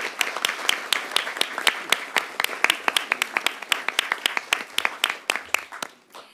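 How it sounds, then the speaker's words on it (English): A modest audience at a debate final claps for the judges, individual hand claps distinct and rhythmic, close and fairly loud before tapering off. "a round of applause for our distinguished judges"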